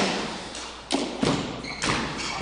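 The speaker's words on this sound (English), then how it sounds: "that tight shot getting by Graham finishes the match" A racquetball strikes the court walls during a professional doubles quarterfinal at the 2015 St. Louis Open, giving several sharp, hollow thuds at uneven intervals over a reverberant indoor court.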